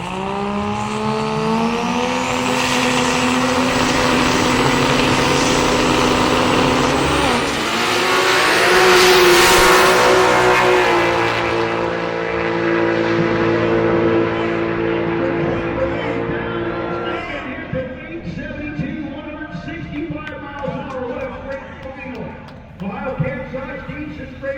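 A 1993 Toyota Supra and a 2002 Toyota Tacoma drag race at a DSM vs. World event: loud engines roar and rev at full throttle, then fade as the cars pull away, under an announcer's talk.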